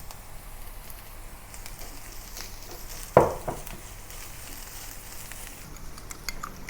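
Garlic, ginger and spring onion stir-fried in a wok give a steady soft sizzle, with one sharp clatter of the spatula against the pan partway through.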